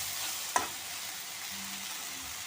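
Colocasia leaf rolls with kokum sautéing in a pan, a steady close sizzle with stirring, broken by one sharp clink of a utensil early on, and no speech.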